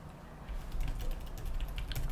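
A computer keyboard clatters in quick, close bursts of key clicks during a live weather and climate broadcast, growing busier after a quiet start, with no voices.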